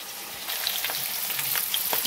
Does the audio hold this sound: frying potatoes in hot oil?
yes